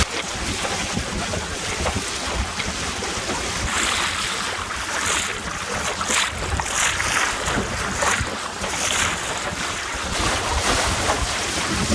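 Steady wind rushing over the microphone with waves and water splashing against a small sailing dinghy on Myall Lakes, continuous and loud throughout, with no voices.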